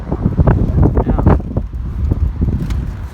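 Outdoor wind gusting across a rooftop during roof vent work, a heavy rumbling buffet against the microphone that swells and eases throughout.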